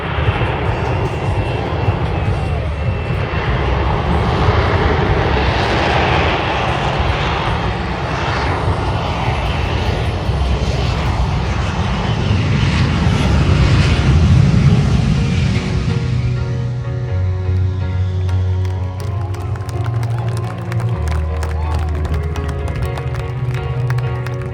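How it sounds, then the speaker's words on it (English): A military fighter jet performs a rolling vertical landing in short takeoff vertical landing mode at the California Capital Airshow, its loud, roaring engine noise swelling and then settling into a sustained tonal whine heard from a distance. "now setting up for a rolling vertical landing"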